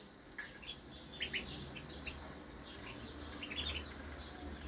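Small birds chirp in a modest aviary, with scattered faint tweets and short call bursts over a soft background hiss.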